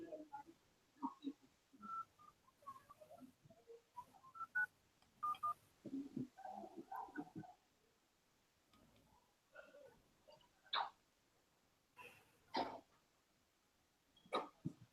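Touch-tone keypad dialing on a phone call to a U.S. Senator's office, a series of separate short beeps in uneven bursts with quiet gaps between, fairly faint and with no talk over it.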